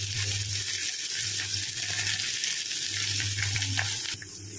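Onion, crushed garlic and curry leaves sauté in hot oil for a Tamil spinach kootu, giving a steady, close sizzling hiss with light stirring scrapes throughout and a brief clatter near the end.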